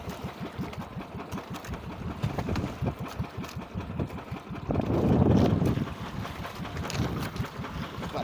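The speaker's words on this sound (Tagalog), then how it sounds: "Patay muna ang makina" A small fishing boat's engine idles at sea with a steady rhythmic chugging, roughened by wind buffeting the microphone and a brief louder surge midway.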